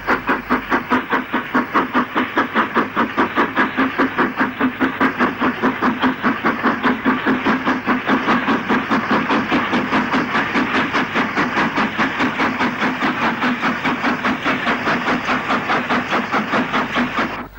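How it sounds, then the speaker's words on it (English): A steam locomotive, number 45493, hauls a hopper train toward Snow Hill, Birmingham, in the 1960s. Its loud, rhythmic exhaust beats continue without a break alongside clattering wagons, close and sustained throughout. "45493, pulls through towards Snowhill on a hopper train. She is followed by this Grange"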